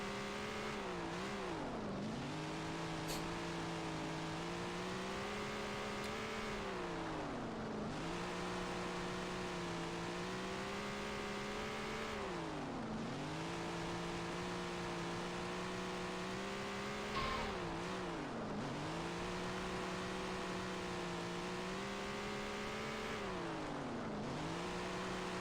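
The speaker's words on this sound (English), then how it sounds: "You can hear I'm playing with the throttle a lot because the last thing I want to do is get this thing wound up where it's spinning" A late model race car engine in a racing video game at Baxterville, droning steadily with repeated throttle lifts and reapplications that make the pitch dip and climb in waves every few seconds, continuous and close, with no voices.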